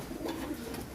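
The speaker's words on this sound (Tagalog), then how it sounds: "So yan yung mga kalapati natin na" Racing pigeons coo in a soft, steady low murmur over a brief stretch, close by and continuous, with no voices.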